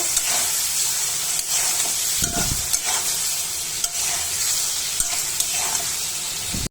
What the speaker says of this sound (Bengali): চিংড়ি মাছ ভালোভাবে কষিয়ে নেব